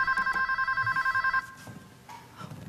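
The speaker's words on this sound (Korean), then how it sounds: "전화 또 왔다! 어서 받아라!" An old-style telephone bell rings loudly in a home in a Korean TV drama, a steady rattling trill that stops after about a second and a half, leaving faint room sounds and a brief quiet voice.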